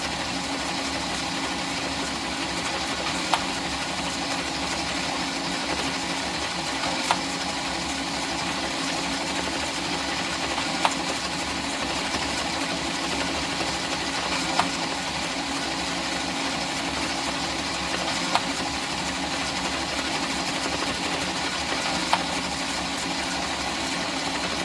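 An Addi knitting machine works Red Heart Roll With It yarn with a steady, even mechanical whir and faint periodic clicks every few seconds, continuous and close, with no one talking.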